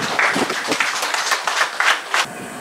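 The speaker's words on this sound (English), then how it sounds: "Give yourself a round of applause for that." Applause from an audience at a police award ceremony in Region 6, Guyana, a short burst of scattered hand claps that swells and fades over a few seconds, close and fairly loud.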